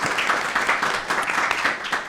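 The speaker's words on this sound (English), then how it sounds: "So can we just give a round of applause" Audience applause at a music seminar in London, a steady wash of many hands clapping at moderate volume throughout, with no talking.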